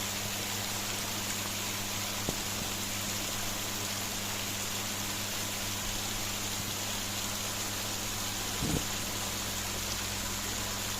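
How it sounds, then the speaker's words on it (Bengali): Continuous splashing water from an artificial fountain at Mohera Zamindar Bari, Mirzapur, Tangail, a steady hiss like falling rain, with a couple of faint knocks. "ঝর্ণার শব্দ"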